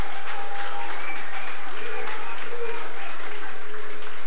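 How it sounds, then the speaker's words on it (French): An audience applauds young people who mobilized, at a gathering on the role of Haitian youth, with steady dense clapping throughout and some voices mixed in. "Applaudissez les jeunes qui se sont mobilisés pour cela"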